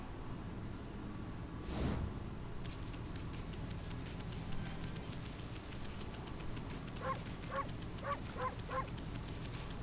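Near the end, a dog in the video game Okami HD lets out a quick run of about five short, sharp barks over a quiet, hissy game ambience, following an earlier single whoosh.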